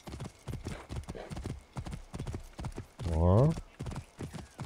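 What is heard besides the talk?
horse riding hoofbeats in video game Assassin's Creed Origins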